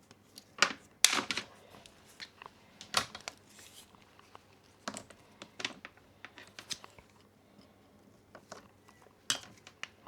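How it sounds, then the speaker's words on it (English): Two electrical wires snipped to length with a hand cutting tool during a junction box wiring job, giving several sharp, close clicks and snaps scattered among soft handling rustles. "I cut the two wires same length."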